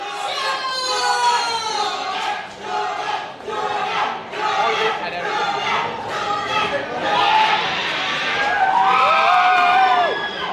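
Loud crowd at an MMA event roars and cheers for a fighter, with shouts and whoops rising in waves, close and continuous, while a voice talks underneath.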